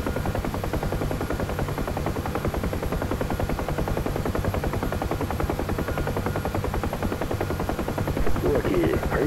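UH-1H Huey helicopter climbing in the DCS flight simulator, its rotor chop a steady, dense thumping throughout with a constant engine drone, loud and close, with no talk over it.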